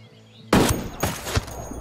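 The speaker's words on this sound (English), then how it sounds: "Opening fire on these fuckers." Video game gunfire crackles in several loud, close bursts of rapid shots, starting abruptly after a quiet lead-in.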